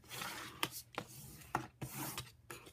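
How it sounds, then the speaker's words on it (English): Folded paper being burnished along its score lines for a note pad cover, heard as soft, close rubbing swipes with a few sharper crisp strokes, repeated over a couple of seconds. "I'm going to fold it on my score lines, and I am going to burnish"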